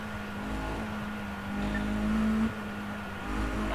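A car in the Need for Speed: Undercover racing game cruises along with a low, steady engine drone. It swells briefly as the engine revs, then settles back to a quiet hum.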